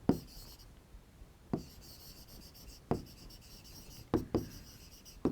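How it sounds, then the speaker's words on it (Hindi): Chalk or marker writing on a classroom board during a biology lecture, a series of sharp taps and short scratchy strokes with quiet gaps between them, close and fairly faint. "तो मैं यहाँ लिख दूं"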